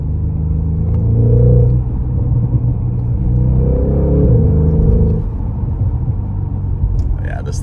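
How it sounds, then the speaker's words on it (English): A 2026 Porsche Panamera GTS rumbles loudly from inside the cabin, its engine note swelling in a couple of rising pulls and dropping between them as it downshifts under braking. "you can hear the downshifts."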